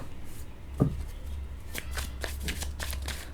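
Tarot cards shuffled by hand during a reading, a close, steady papery riffling and flicking that runs throughout, with one louder tap early on and no talk.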